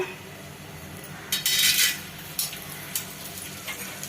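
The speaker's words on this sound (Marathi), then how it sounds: "आता याच्यात डिंक घालून घेऊया" Edible gum dropped into hot ghee in a wok, a faint background hiss broken by a burst of bright sizzling and a few sharp utensil clinks against the pan, close by and without talk.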